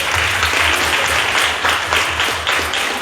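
Applause at an annual awards ceremony, a loud, dense and sustained clapping from a large crowd that holds at an even level for about three seconds with no talking.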